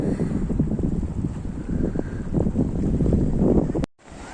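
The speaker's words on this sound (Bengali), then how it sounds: "এরপরে জাস্ট সমুদ্র, আর কিছু নেই" Sea waves on the beach at Digha, a steady wash of surf mixed with gusty wind rumbling across the microphone, continuous throughout and cut off abruptly near the end.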